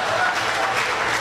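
Audience applause at a black-tie dinner in San Fernando, Trinidad, greeting a singer: a brief, steady wash of clapping filling the room, with talk mixed in.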